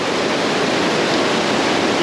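River water rushing through the breached Lockville dam on the Deep River, a dense, loud, steady roar of churning flow with no break.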